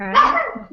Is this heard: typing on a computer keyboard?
no